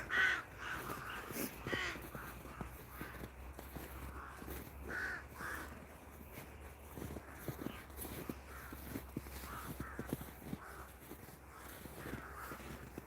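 A flock of crows caws repeatedly in a winter apple orchard in Zhytomyr, Ukraine. The harsh calls are fairly faint and distant, coming in overlapping bursts over quiet outdoor ambience.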